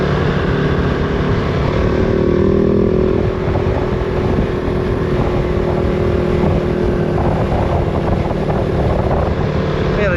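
Kove 450 Rally motorcycle cruising steadily in fifth gear at about 40, a continuous loud engine drone with wind rush that holds even throughout, no talking.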